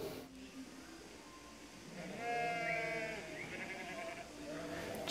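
Sheep bleat during shearing in a shed in Northumberland, a couple of wavering bleats rising over a low machine hum and background shuffling.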